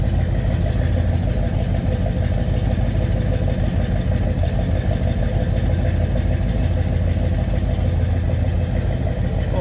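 A 1971 Oldsmobile 442 convertible with a 455 V8, Edelbrock intake and Flowmaster exhaust idles with a steady, deep, loud rumble that holds unbroken throughout.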